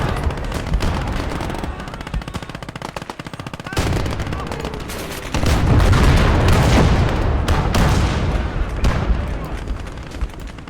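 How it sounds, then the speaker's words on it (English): Machine gun fire in The Southern Front, a World War strategy game. Loud bursts of rapid automatic shots overlap with heavy booms and roll on continuously, growing denser and louder toward the middle. "Machine guns."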